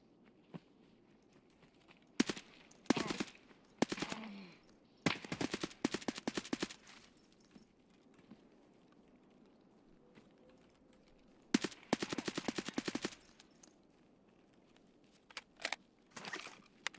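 Gunfire in the video game Escape From Tarkov, several sharp rapid bursts at moderate distance spread across the stretch, with quiet gaps between the volleys.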